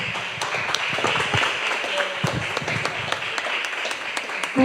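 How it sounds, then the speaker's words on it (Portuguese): Church congregation clapping during a service, a steady broadband patter of many hands sustained throughout with occasional louder individual claps, fairly near, with a voice briefly heard over it. "Aplauda os céus bem forte."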